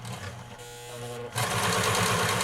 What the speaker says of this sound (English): So I'm going to go ahead and turn this on, lock it in